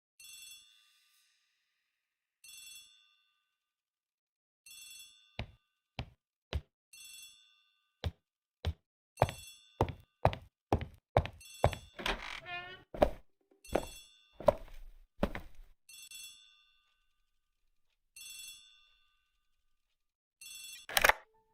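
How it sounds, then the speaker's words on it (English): A telephone in a hallway rings in periodic short trilling bursts over a series of sharp clicks and knocks, close and clear, with no voices. "The telephone in the hall is ringing."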